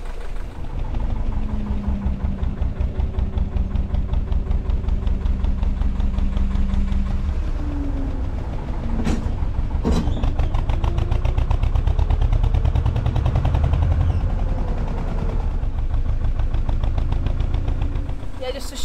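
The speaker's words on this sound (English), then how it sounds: "Just a short spurt on the old reverse clears a lot of the leaves from around your propeller." A narrowboat diesel engine thumps in a rapid, even knock as it is run in reverse to clear leaves from the propeller, loud and close throughout, with a brief clank partway through.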